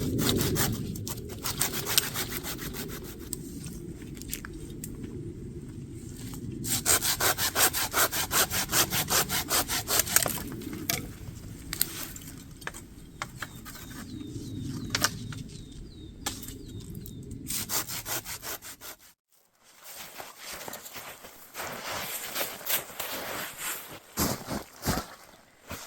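A hand saw cuts firewood on a log laid over a fallen trunk in the taiga, steady close back-and-forth rasping strokes running for most of the time before stopping, leaving scattered rustles and knocks.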